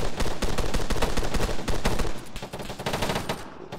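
A mounted machine gun fires in sustained rapid bursts during an ARMA 3 combat patrol, loud and close, the dense rattle continuing almost unbroken with a slight dip near the end.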